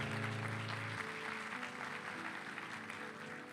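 A church congregation claps together in a steady, dense burst of applause. It starts loud, then fades slightly over a few seconds while sustained instrumental tones hold underneath.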